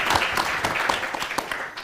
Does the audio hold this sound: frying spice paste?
no